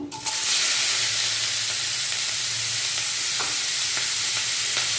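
Onions frying in hot oil for a dry salted fish curry, a close, steady sizzle that swells as they hit the pan, with a few faint stirring clicks and no talking.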